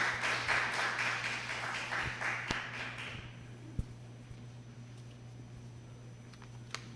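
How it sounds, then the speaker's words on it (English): Applause from a ceremony audience marking the 55th founding anniversary of ASEAN, a dense patter of clapping for the first three seconds that quickly fades out, leaving a quiet hall with a few stray taps. "Let us also give His Excellency a warm round of applause."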